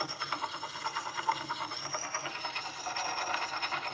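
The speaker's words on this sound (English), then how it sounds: "Natural sharpening stones. They're different all over the world. This one comes from Belgium. So we're going to go ahead, I think, and put a little micro bevel on the edge." A steel edge being honed on a Belgian blue natural sharpening stone to add a micro bevel, heard as steady, close, rhythmic scraping strokes that continue evenly throughout without speech.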